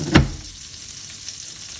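Breaded cordon bleu cutlets drop into butter in a pan over medium heat, giving a sharp sizzling burst at the start that settles into a low, steady frying hiss.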